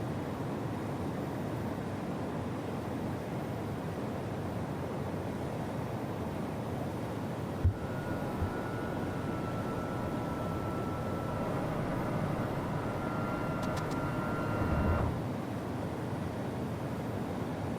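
A B-1 Lancer jet in the MSFS 2024 flight simulator climbs after takeoff, a steady broad engine roar that holds throughout, with a faint thin tone rising partway and a couple of soft clicks.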